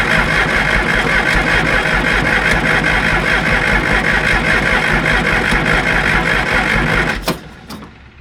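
The diesel engine of a John Deere 350C dozer cranks loudly and steadily for about seven seconds during fuel-system injector repair, then cuts off and falls quiet.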